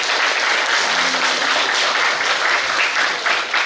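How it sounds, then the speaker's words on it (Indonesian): Audience at a school training event in Kediri clapping, a dense, steady burst of applause from a crowd that carries on throughout without a break. "Boleh tepuk tangan yang meriah?"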